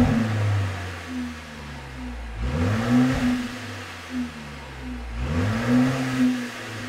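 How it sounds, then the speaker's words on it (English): A Mercedes-AMG SL43 in race mode, parked, is revved twice: each blip rises sharply and then falls back to a steady idle. The engine is heard alone, at moderate volume. "Let's put the car into its fruitiest mode, which is race mode, and let's give it some revs."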